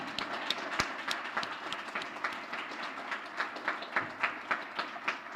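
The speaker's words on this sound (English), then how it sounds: "if we could give a round of applause for Sasha" An audience applauds a club member at a flying club's aircraft raffle event, a dense, steady wash of many hands clapping with crisp individual slaps standing out, sustained evenly throughout.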